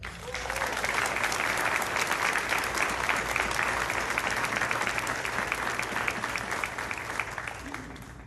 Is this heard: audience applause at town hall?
yes